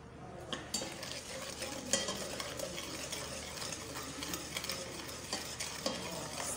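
Goat head dish (isiewu) with dissolved potash being stirred in a pot, a soft, close, steady scraping and squelching with a light sizzle beneath and small utensil knocks, no talking.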